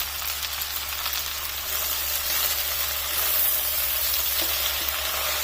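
Spaghetti cake masala mixture cooking in a pan, a steady close sizzle and hiss of frying with faint stirring, continuous and even throughout with no talking.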